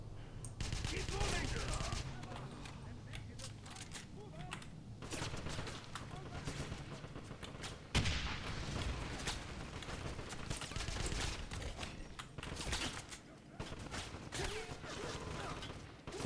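Rapid bursts of gunfire in the video game Wolfenstein (2009) crackle repeatedly throughout, with brief pauses between volleys and a sharper blast midway.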